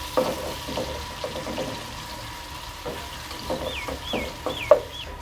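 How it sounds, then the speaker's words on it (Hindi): Onions fry lightly in a pan with a soft steady sizzle while a spoon stirs and scrapes at intervals; faint background bird chirps come through near the end. "तो प्याज को हमने ब्राउन नहीं करना है, हमने यहाँ पे प्याज को बस हल्का सा हमने प्याज को भूनना है।"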